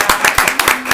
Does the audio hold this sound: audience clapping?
yes